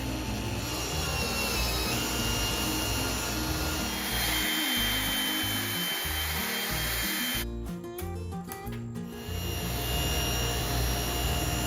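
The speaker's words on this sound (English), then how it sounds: "I ripped the panels to a more manageable size, and I'll clean it up on the table saw." A table saw cuts 3/4 inch birch plywood panels with a loud, continuous whine and grinding rasp, its tone shifting midway as the blade works through the wood.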